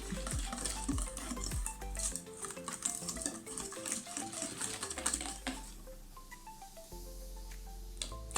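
A utensil stirs eggs into milk in a pan for a chocolate flan, giving continuous scraping and clinking with a steady hum underneath.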